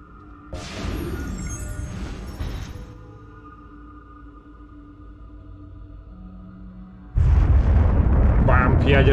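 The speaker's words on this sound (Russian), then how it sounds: "Бам, ядерный взрыв." A loud explosion in the video game Assassin's Creed II bursts in abruptly near the end, with a deep low rumble after a quieter stretch of game ambience; someone talks earlier over a burst of sound.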